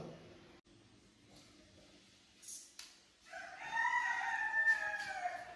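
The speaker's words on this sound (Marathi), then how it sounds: "कोंबड्या ओरडतायत." Faint clucking early on, then a rooster crows loudly and clearly, a long drawn-out call standing alone over quiet background.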